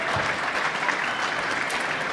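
A banquet crowd applauding a speaker walking up, dense steady clapping from many hands filling the room without a break.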